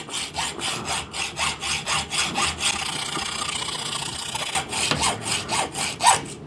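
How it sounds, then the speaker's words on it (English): Hacksaw cutting a hardened steel sprocket, strokes coming in a steady back-and-forth rhythm, pausing briefly mid-clip before the rasping resumes, close and fairly loud with no voices. "a hacksaw will be good enough for it"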